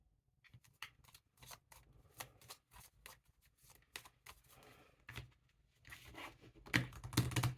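Tarot cards being shuffled for a card reading, a quiet, close series of irregular riffling and slapping bursts that grow louder toward the end, with no talk.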